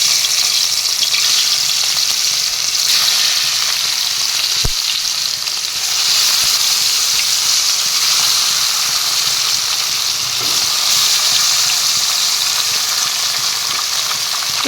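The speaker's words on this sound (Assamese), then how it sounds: "মাছ ফ্ৰাই কৰিব দিলে গেছৰ ফ্লেমটো হাই ফ্লেমত দি দিব, তেতিয়া মাছখিনি লাগি নধৰিব" Fish fries in hot oil over a high gas flame for an Assamese fish curry, giving a loud, steady sizzle that continues unbroken for about fifteen seconds. A single soft knock is heard partway through.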